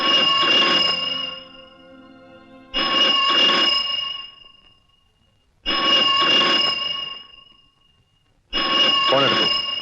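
A telephone rings in a tense Malayalam movie scene: four loud, evenly spaced bursts of bell-like trilling, each about a second and a half long, with quiet gaps between.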